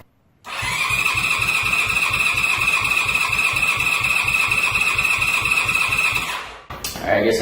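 A Honda CB550 motorcycle engine cranks over on the starter during a compression test, a rapid, even chugging with a whining starter tone lasting about six seconds, then cutting off, with a voice briefly heard at the end.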